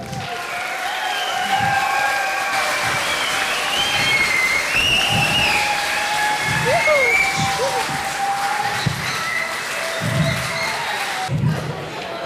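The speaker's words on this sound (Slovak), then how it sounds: "A teraz obrovským potleskom privítajte Kátovskú ochotnícku zábavnú ansáblu." A large crowd applauds to welcome an amateur comedy ensemble at a Slovak carnival show, with sustained clapping, cheering and raised voices around it and music playing underneath.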